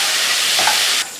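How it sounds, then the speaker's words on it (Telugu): Cumin seeds, green chillies and curry leaves sizzle in hot oil with a broad, steady hiss that holds for about a second, then drops off abruptly near the end. "ఆయిల్ లో జీలకర్ర, జీరా, గ్రీన్ చిల్లీస్ అండ్ కరేపాకు వచ్చింది"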